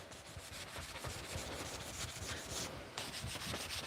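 Sandpaper rubbed by hand over a carved surface, moving up toward finer 800 grit, a steady close scratchy rasp with rhythmic strokes and no pauses.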